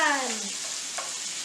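Seasoned vegetables stir-fry in a hot pan at a live cooking demo, giving a steady close sizzle with one brief scrape of the stirring utensil partway through and no talking.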